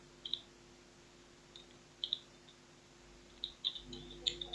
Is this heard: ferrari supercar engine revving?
no